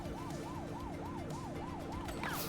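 A police car siren from The Precinct video game wails in a steady, regular rise-and-fall pattern over a low engine rumble, continuous and fairly close, no voices.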